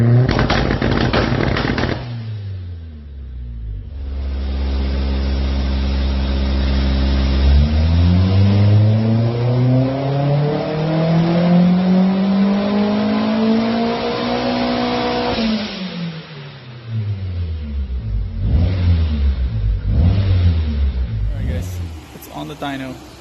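Toyota MR2 engine running on a dyno under its stock ECU, revving hard: sweeping rises in pitch from idle up to high revs and back down, with a crackling exhaust and a few shorter throttle blips, close and loud.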